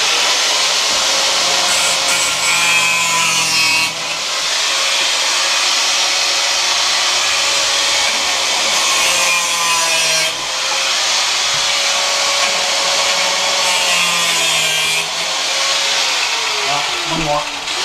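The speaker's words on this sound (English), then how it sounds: "So if we can get that off, grind them off and then see if we can't pry that off of there" A power grinder cuts off shims on the frame of a load-bearing wall in an old balloon-frame house, a loud, continuous high whine with slight pitch shifts as the tool bears down, running close and nearly nonstop.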